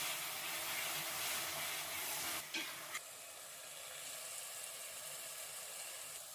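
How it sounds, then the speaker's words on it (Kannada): Ground masala paste for tomato bath fries in a pan with a soft, steady sizzle and a couple of brief stirring scrapes, heard faintly and alone without talk. "ಈ ಮಸಾಲೆನ ಚೆನ್ನಾಗಿ ಫ್ರೈ ಮಾಡ್ಕೋಬೇಕು. ಹಸಿ ವಾಸನೆ ಹೋಗೋವರೆಗೂ ಫ್ರೈ ಮಾಡ್ತಾ ಇರಬೇಕು."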